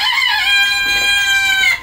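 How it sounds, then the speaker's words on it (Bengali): Farm chickens call loudly and close by in cold weather, one sustained bright crow-like cry filling nearly two seconds with no talk. "আজকে মুরগিগুলোকে চেক করতে আসলাম, মুরগিগুলো কি অবস্থায় আছে"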